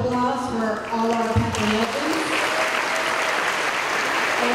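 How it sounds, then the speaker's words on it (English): An audience at a high school League of Legends presentation bursts into applause after a voice speaks, the clapping building into a dense, sustained roar that continues to the end. "One last round of applause for all our"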